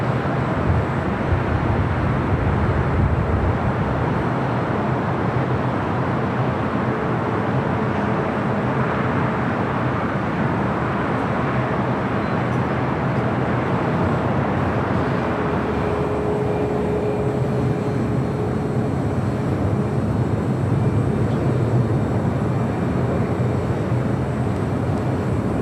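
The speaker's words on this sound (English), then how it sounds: "Next arrival is United Airlines with 2304 coming in from Newark, a 777-200." A United Airlines Boeing 777-200 arriving at LAX from Newark roars steadily at a distance, a broad continuous jet rumble that swells slightly and holds for the whole stretch.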